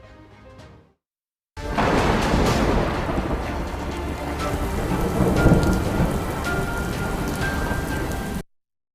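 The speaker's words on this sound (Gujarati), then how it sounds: "દક્ષિણ અને મધ્ય ગુજરાતમાં અનેક તાલુકામાં ભારે વરસાદી માહોલ છવાયો છે" Heavy rain pours loudly during a widespread downpour across Gujarat, with low thunder rumbling through it and rising near the end; a short faint burst comes first, then silence, then the storm cuts in.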